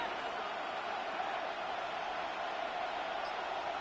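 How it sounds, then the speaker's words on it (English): A football stadium crowd before a third-down play makes a dense, steady roar that holds at an even level throughout, with no distinct cheers standing out. "This crowd into it now as we get to third down."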